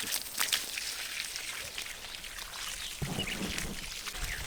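Well water pours from a hose pipe onto a garden for irrigation, giving a steady hissing, splashing wash that runs continuously, moderately close, with no talk.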